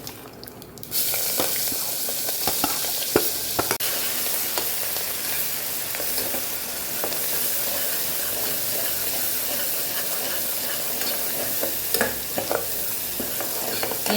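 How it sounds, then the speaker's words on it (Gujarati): Spice masala sautéing in a pan with a steady, close sizzle and repeated stirring scrapes throughout, with hing added, for a Kathiyawadi stuffed brinjal and potato curry. "મસાલો જે આપણો બચેલો એને પહેલાં આપણે સાતળી લઈશું"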